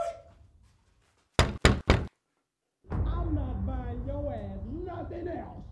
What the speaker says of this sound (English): I know you heard me knock on this door and say trick or treat.